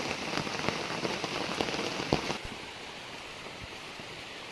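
Heavy rain pours down on a garden of cocoa seedlings, a dense, loud hiss with scattered close drops and splashes that eases slightly partway through, with no voices.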